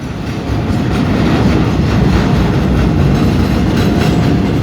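A loud, close freight train rumbles past steadily at a road crossing on Rama 4 Road, with a heavy low roar and faint rhythmic clatter of wheels on rails throughout.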